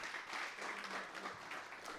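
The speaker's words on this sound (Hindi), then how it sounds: "एक बार जोरदार तालियां" A seated audience claps steadily through a poetry gathering in Karnal, a dense, continuous round of applause heard alone.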